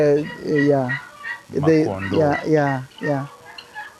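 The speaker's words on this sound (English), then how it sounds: "so we've got guinea fowls, we've got turkeys" Turkeys and guinea fowl calling on a poultry farm with a hatchery, a burst of loud, harmonic gobbling and warbling cries that repeats in several close, overlapping phrases for a few seconds.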